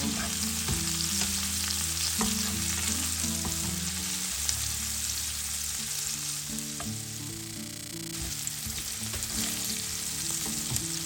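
Garlic and chili frying in a pan for a chili bharta, a steady dense sizzle with occasional stirring clatter, close and continuous throughout.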